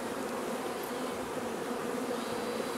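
Honeybees hum in a dense, constant drone around a hive frame during a colony split, the steady buzz close and even throughout with no voices.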